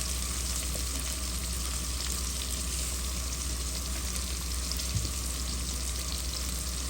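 Spices with salt and sliced green chillies fry in a pan as a steady, fairly quiet sizzle, an even hiss throughout with one brief stirring tap.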